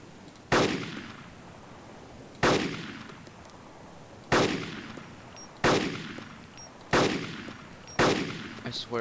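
Six loud, sharp gunshots at roughly even intervals, each with a trailing echo, from gunfire in the survival video game DayZ, heard alone without talk.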